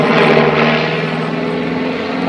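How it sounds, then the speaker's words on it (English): Pitts aerobatic plane at an evening airshow performing a torque roll, its propeller engine a loud steady drone with a dense, buzzing tone, close and alone without talk. "A torque from the propeller keeps the aircraft spinning as it's moving backwards."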